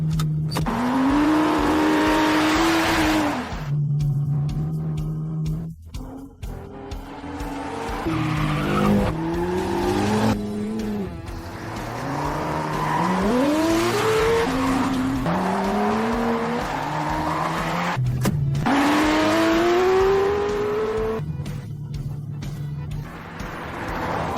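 Racing cars screaming through corners with repeated tire squeal and skidding, engine tones rising and falling in sweeps, loud and continuous with a few brief breaks.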